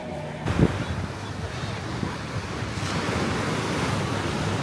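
Ocean surf washes steadily onto quiet Puka Beach in Boracay, a continuous broad rush with wind buffeting the microphone and a brief thump near the start, with no talk over it.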